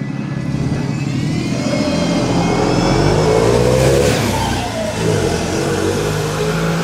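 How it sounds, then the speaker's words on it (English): On a windy early-morning street in Blackpool, a loud bus and a van pass close by, their engines swelling to a roaring peak midway before easing off as they move away. "I'll tell you what a bloody racket that bus was"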